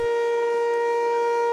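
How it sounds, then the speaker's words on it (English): An outdoor tornado warning siren in Antigo, Wisconsin sounds a steady, loud, sustained tone with strong harmonics, holding level without a rise or fall and heard alone without talk. "This tornado siren's still up here in Antigo"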